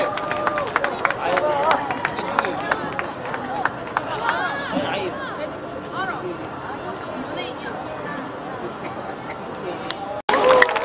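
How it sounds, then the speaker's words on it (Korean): Audience clapping and cheering at an outdoor Labor Day celebration concert in Bucheon, steady crowd applause with chatter throughout as a K-pop girl group is welcomed to the stage. "큰 박수로 보내주세요."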